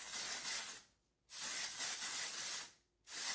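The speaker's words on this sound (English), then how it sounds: "So this texture spray all through the locks." Ulta texture spray misted through brushed hair in two long hissing bursts separated by a short pause, close and steady, with no talking.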